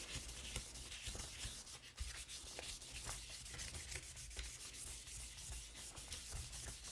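Aluminum motorcycle part being wet sanded by hand with sandpaper, a continuous close scratchy rubbing in quick back-and-forth strokes, with no talk.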